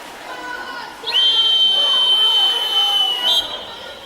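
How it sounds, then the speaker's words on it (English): A sustained, loud whistle blast of about two and a half seconds cuts through the echoing crowd noise of an indoor swimming pool. "Whistle."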